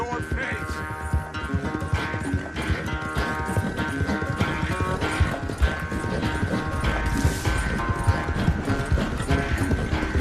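Hooves clip-clop at a steady gallop from a horse in the video game Red Dead Redemption 2, loud and continuous over a dense mechanical game backdrop with a sustained droning tone.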